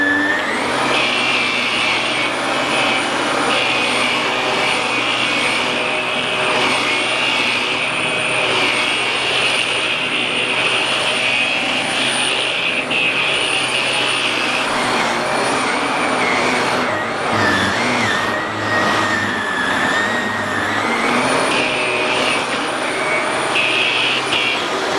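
A Shark Navigator vacuum cleaner runs over carpet and hardwood, giving a loud, steady high-pitched motor whine that holds close and constant throughout, with slight shifts in tone as it moves.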